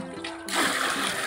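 Water scooped from a storage tank fed by a pipe, for bathing pigeons: a quiet lull, then a sudden splashing slosh that continues briefly as the water is lifted out, close by.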